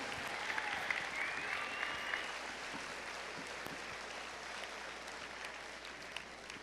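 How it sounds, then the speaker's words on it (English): A high school student body at an annual honors awards assembly gives a long, even round of applause, a steady wash of clapping from a large crowd. "One big round of applause."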